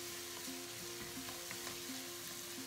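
Sautéed shrimp paste (bagoong) for pakbet sizzles quietly and steadily in a pan while a utensil scrapes and stirs it in a repeating rhythm.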